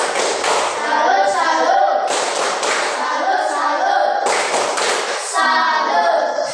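Rhythmic clapping, steady and close, in quick bursts mixed with voices chanting along.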